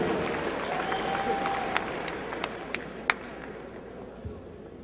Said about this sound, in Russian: И аплодисменты команде Александра Емельяненко.